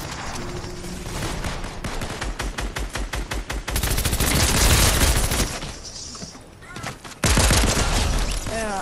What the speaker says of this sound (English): they shooting at me